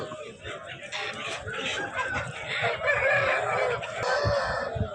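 A country rooster crows amid clucking hens at a poultry market, with people chattering in the background throughout.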